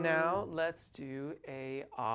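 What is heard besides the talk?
None of the usual background noises is heard.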